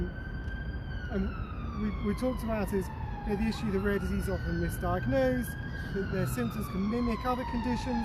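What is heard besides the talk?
emergency vehicle siren passing outside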